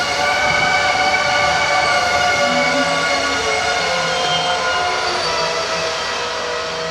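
A Colombo train at platform 2 of the railway station in Jaffna, its steady, loud rumble and rolling hum filling the whole stretch with no talk, slowly easing off toward the end.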